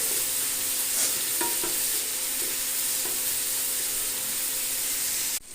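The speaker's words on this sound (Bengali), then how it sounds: "পেঁয়াজ আর টমেটোটাকে এইভাবে ছেড়ে দিলাম, দিয়ে আস্তে আস্তে এটাকে ভালো করে ফ্রাই করে নেব।" Onion and tomato fry in a pan for a chicken and potato curry, giving a steady broadband sizzle throughout with a few soft stirring scrapes, close and fairly loud, and no voices.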